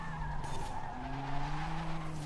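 Tires of a BMW M4 Competition skid in the Forza racing game, a steady squeal over the droning engine note as the car slides sideways, continuous and close with no talk.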